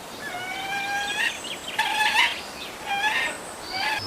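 Birds call with clear, repeated harsh and piping cries in an animated Bible story about ravens, several bursts over a steady hissing background with no talk.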